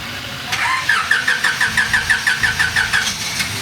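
A classic Honda Civic engine cranks over with a rapid, even series of starter pulses, about a dozen in a row, loud and close, after its fuel rail has just been refilled.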